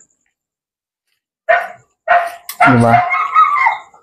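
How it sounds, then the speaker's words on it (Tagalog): Dog barking outdoors at night near a cemetery and apartments: a few sharp, close barks in quick succession after a quiet start, with a person talking over them. "May aso."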